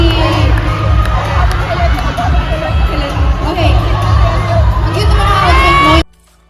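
A big concert crowd of fans shouting and cheering loudly together, sustained and energetic for about six seconds before cutting off abruptly.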